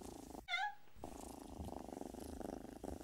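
A cat purrs softly and steadily at close range, a low continuous rumble with a brief high chirp-like sound near the start.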